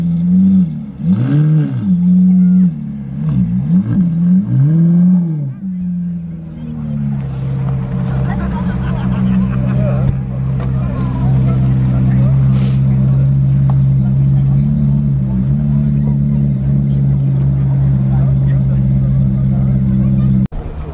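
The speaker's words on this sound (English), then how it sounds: "Sounds like an aftermarket exhaust on it as well." A red Ferrari 430 with an aftermarket exhaust arrives at a winter car meet at a motor museum. Its engine revs rise and fall, then settle into a loud, steady, deep drone up close, with people talking nearby.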